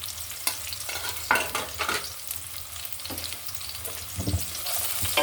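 Chopped onions and bottle gourd greens frying in a pan, a steady close sizzle broken by repeated scraping and stirring strokes, with no talk.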